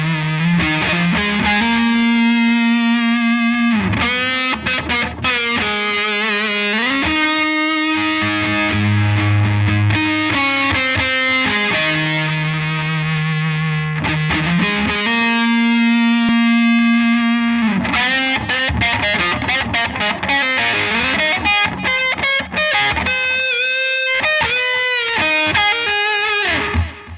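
Electric guitar played through heavy distortion, loud sustained notes and bends giving way to fast, choppy riffing, continuous and up close with no voices.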